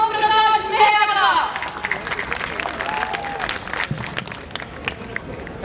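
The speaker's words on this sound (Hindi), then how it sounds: "तो जोरदार तालियों से स्वागत कीजिए राकेश ओम प्रकाश मेहरा का" An audience at a school annual function applauds to welcome film director Rakeysh Omprakash Mehra, a dense burst of clapping with music and voices that fades as the noise thins out.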